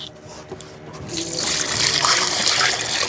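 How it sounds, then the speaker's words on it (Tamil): Dried fish is rinsed in water, and running, splashing water builds from a quiet start into a steady close-up wash with no talking. "இதை வந்து கடை தண்ணியில் ஃபஸ்ட்டு அலசிடுவோம்"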